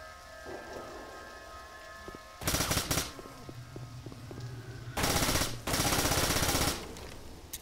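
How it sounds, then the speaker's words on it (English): Machine gun fire in Left 4 Dead 2, two loud sustained bursts, the second longer and broken by a brief gap, cutting through steady rain-like ambient noise. "Machine gun."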